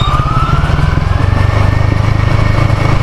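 A motorcycle engine drones steadily and loudly, close up, as the bike rides a narrow road in the Philippine town closest to Taiwan, with a continuous throbbing rumble and no talk.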